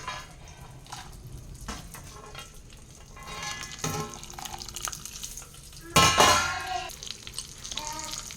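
Okra and peanuts frying with dried red chillies, a close crackling sizzle broken by scraping stirs and one loud burst of spattering, fairly faint overall with no talking.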